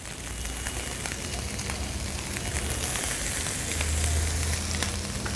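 Prawns sizzle steadily in a hot paella pan with seafood paella, a dense crackling hiss that holds loud and even throughout, with faint pops and a low hum underneath.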